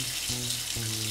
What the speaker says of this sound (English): Carl, how about you go start and take a shower?